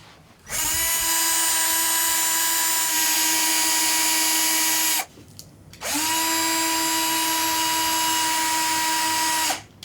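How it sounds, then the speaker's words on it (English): A powered surgical screwdriver drives screws into a plate during foot surgery, whirring with a steady high whine in two long runs, close and loud, with a short pause between them. "the next step is to screw the plate into place with a couple of screws"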